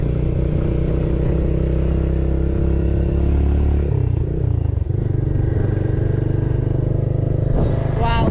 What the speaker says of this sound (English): We are riding the motorbike.